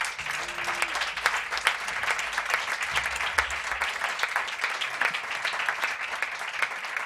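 An audience at a jazz concert applauds a clarinetist, a steady wash of clapping that holds throughout at moderate level, with faint low tones underneath.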